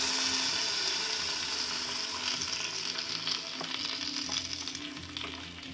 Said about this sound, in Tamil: கோகோனட் சட்னி சேமியாவுக்கு தொட்டுக்கிறதுக்கு தாளிக்கணும்.